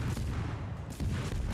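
Destroyer Forrest Sherman's naval guns fire in a warship game, heavy booming shots in quick succession with a deep rumbling tail, the second blast arriving just under a second after the first.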